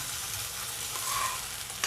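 Cabbage Manchurian mixture sautés in a pan over a low flame, giving a steady, close frying sizzle with faint stirring that runs evenly through the whole short stretch, with no talking.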